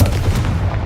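A Confringo fire spell explodes in the Hogwarts Legacy video game, a loud, dense boom with low rumble that holds steady for just under a second, heard alone.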